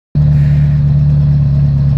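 A vintage Ferrari engine with an old exhaust starts suddenly and holds a loud, steady, deep drone up close, with no talk over it.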